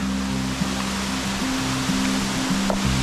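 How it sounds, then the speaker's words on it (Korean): Rushing water of the Ammaibul waterfall at Eoleumgol, Korea, roars in a constant broadband hiss, loud and steady, with a faint low hum running beneath. "어, 저기가 암 마이불 폭포입니다."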